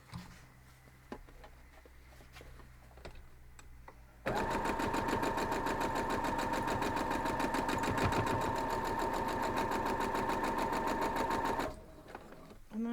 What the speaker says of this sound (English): We're gonna go over and sew that right down.